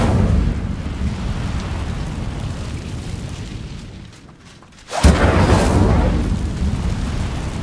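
Incendio fire spell in Hogwarts Legacy, a steady roaring rush that dips nearly to quiet, then bursts back loud with a sharp crackling whoosh that keeps roaring afterward, no talk.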